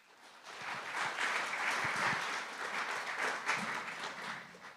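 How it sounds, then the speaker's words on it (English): Audience applause fills a hackathon closing ceremony hall at UC Berkeley as a judge is welcomed, a steady dense wash of many hands clapping, swelling slightly and holding at moderate distance. "let's give a big round of applause to Phoebe Yu"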